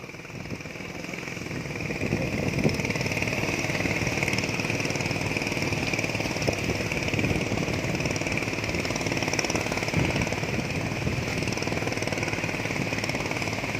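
A tugboat engine on the Pattani River in Thailand runs at a steady, loud drone for the whole stretch, a continuous mechanical hum with faint knocks scattered through it and no talking.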